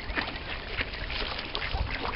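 Ducks quack near swans on the water, a dense, noisy flurry of nasal calls filling the short stretch at moderate loudness.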